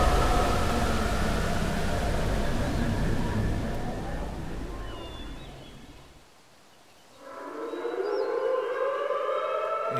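A wailing emergency siren from an animated cartoon sweeps steadily for about six seconds, drops to near silence, then rises again, with faint bird-like chirps high above it.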